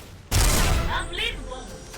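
A bazooka fitted with a Death Messenger skin is fired in a shooter video game: one sudden, loud blast followed by a decaying roar, with a voice talking over it.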